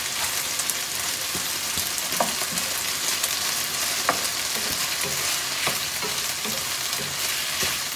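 Butter and mushrooms fry in a pan with a steady, close sizzle, broken by scattered small pops and crackles.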